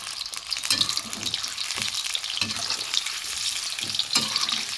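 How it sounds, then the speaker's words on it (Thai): Oil sizzles and crackles steadily in a pan as tofu fries, with occasional scraping and stirring sounds, close and continuous throughout. "เดี๋ยวเฮาสิทอดลวนก่อนสักแป๊บนึงครับพี่น้อง ทอดให้ผิวมันตึงๆช่ำๆเนี่ย"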